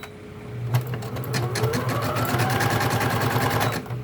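A Bernina Deco650 embroidery machine sews a bean stitch with a rapid, steady mechanical chatter and a low motor hum that run without a break.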